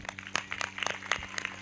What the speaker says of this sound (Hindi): जिनको अच्छी लग रही है वो ताली बजा रहे हैं।